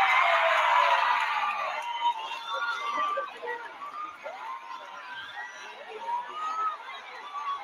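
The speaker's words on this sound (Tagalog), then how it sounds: "Hiyawan, no?" A large crowd at an outdoor political gathering in Manila shouts and cheers, loudest at the start and then settling into a steady roar of overlapping voices.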